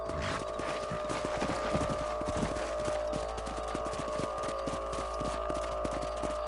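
Horse hooves clip-clopping at a steady trot while riding in the Red Dead Redemption video game, an even rhythmic patter over a constant low hum, no talking.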